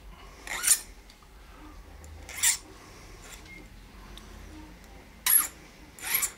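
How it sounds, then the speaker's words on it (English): A file rasps against the small points on the end of a silver ring shank in four brief, close strokes spaced apart, with quiet pauses between them. "take off these little points on the end just by filing them flat"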